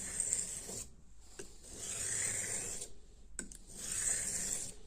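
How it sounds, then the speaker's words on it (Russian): A blade drawn across a 6000 grit whetstone held on a rubber base, steady slow rasping strokes repeated about three times with brief pauses between, close and fairly soft. "Теперь берем, устанавливаем, он на резиновой подошве, то есть он будет держаться. Мы с вами начинаем вести."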